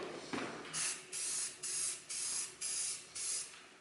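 An aerosol spray paint can hisses in six short, evenly spaced bursts, each about a third of a second long, close and clear, with quiet pauses between.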